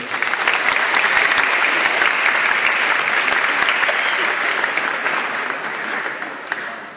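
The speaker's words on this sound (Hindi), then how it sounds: "इन हमारे मेहमान कलाकारों के लिए जोरदार तालियां।" An audience applauds guest singers at a live music performance, strong continuous clapping that swells early and gradually fades toward the end.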